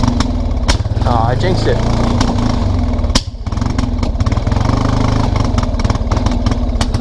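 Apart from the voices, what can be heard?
1999 Kawasaki Prairie 300 ATV engine running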